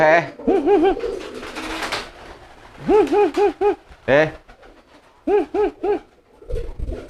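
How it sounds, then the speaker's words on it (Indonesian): Crested pigeons coo in repeated rhythmic phrases of three or four soft notes, close and clear, with some brief wing flutters and rustling between calls. "Nah ini merpati jambul"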